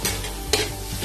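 Boiled green gram sprouts are stirred in a pan, with a brief hiss and a couple of scraping strokes over a soft sizzle.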